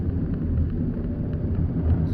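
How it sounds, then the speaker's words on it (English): A car engine is revved during a driving lesson, a steady low rumble that holds at a constant level for the whole stretch with no voices over it. "Give it some more revs."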